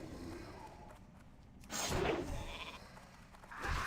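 Sheep bleat in World of Warcraft, a couple of short bleats rising over a quiet ambient background, one louder near the middle and another toward the end.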